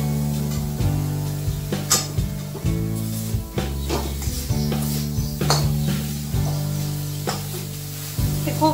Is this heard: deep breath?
no